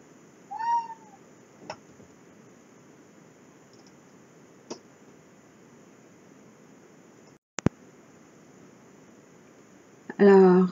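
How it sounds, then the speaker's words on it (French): A house cat meows once briefly indoors, a short rising-falling cry near the start over a steady hiss, followed by faint clicks and a burst of noise at the end. "j'ai fait une petite interruption, interrompue par un de mes chats"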